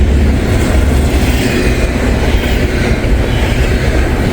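A train slowing as it approaches Hamilton passes close to the track with a steady, loud rumble and rhythmic clickety-clack of wheels over rail joints, sustained throughout without talk.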